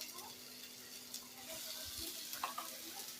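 Eggs and potatoes fry together in a pan of spice masala made with cumin, coriander and chilli powder, giving a steady, soft, close sizzle with faint stirring clatter throughout.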